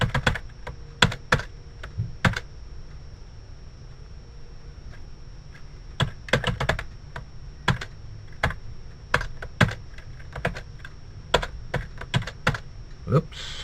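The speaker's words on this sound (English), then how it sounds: "So I'm going to type the body in right now." HTML code being typed on a computer keyboard: bursts of close, crisp key clicks in uneven clusters with quiet pauses between, no voice.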